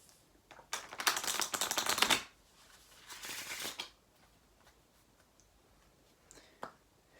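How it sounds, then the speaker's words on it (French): A deck of playing cards riffle shuffled during a magic trick, a crisp fluttering burst of about a second followed by a shorter second riffle, close up and fairly quiet. "on va mélanger le jeu à l'américaine"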